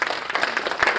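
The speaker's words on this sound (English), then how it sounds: "So yeah, clap it up." Dense audience clapping fills a talk on finding voice and choice after foster care, a steady, close wash of many hands with no pause, heard alone without speech.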